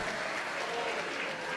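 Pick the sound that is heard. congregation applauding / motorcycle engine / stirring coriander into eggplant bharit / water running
congregation applauding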